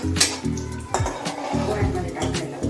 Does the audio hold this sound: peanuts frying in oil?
yes